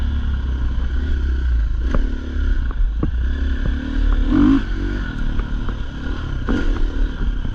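A KTM/Husqvarna motorcycle ridden after a new fuel pump and filter install, its engine a steady, loud drone with light throttle changes and occasional clattering over a constant rumble.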